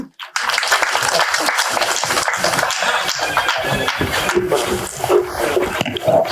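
Audience applauding the heroine at a movie event on stage, sustained crowd clapping that swells in quickly and carries on steadily, with a few voices and stage sounds mixed in.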